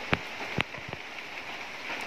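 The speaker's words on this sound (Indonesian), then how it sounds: "hujan mulai turun guys" Light rain beginning to fall, heard as a faint, sparse patter with a few distinct drops standing out over a soft background hiss.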